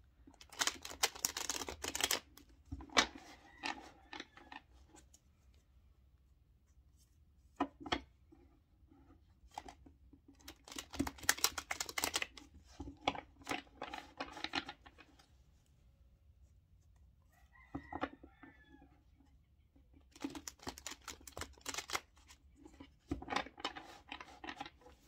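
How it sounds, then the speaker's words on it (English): Tarot cards being shuffled by hand in bursts of riffling and rubbing, close and crisp, separated by quiet pauses. "I'm just going to shuffle the cards 3 times."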